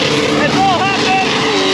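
A car does burnouts at a motorsport event, the engine screaming loud and close with rising and falling revs and tyre squeal over a dense roar, while people talk underneath.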